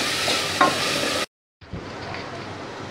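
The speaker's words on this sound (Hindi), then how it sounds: "इनको हमें 2-3 मिनट अच्छी तरह भूनना है ताकि जब तक हमारा प्याज जो है घी छोड़ देगा" Onions and green chillies fry in ghee with a loud, steady sizzle and stirring scrapes; the sound cuts out for a moment, then resumes slightly quieter.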